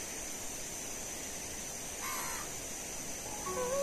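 Birds calling near the Bagmati river, with a steady rushing river hiss beneath and a few clear tonal calls rising near the end, moderately loud against the water.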